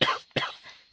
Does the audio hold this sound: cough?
yes